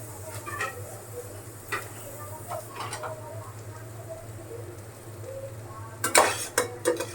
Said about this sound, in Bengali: এখন পেঁয়াজটা একবারে লালচা করে ভেজে নেই